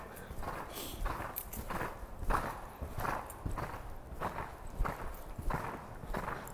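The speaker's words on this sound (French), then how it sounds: "Allez, on galope, on galope, on galope, on galope, on galope." A horse exercised on a circle in an arena, hooves clip-clopping in a steady, even rhythm at moderate distance, the soft repeated thuds continuing throughout without speech.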